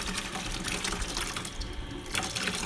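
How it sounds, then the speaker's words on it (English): Water runs steadily from a tap over beans being rinsed of chaff, a continuous splashing rush with a brief dip in brightness midway, close and fairly loud. "You just have to keep on pouring water and"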